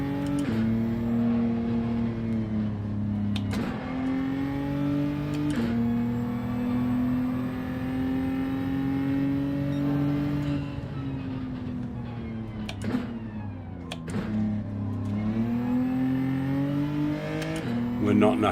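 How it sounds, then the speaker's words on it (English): Racing game car engine idling and cruising at low throttle, a steady droning hum with gear-change shifts and small rev dips, continuous and fairly loud. "Sounds like the car's idling in your driveway."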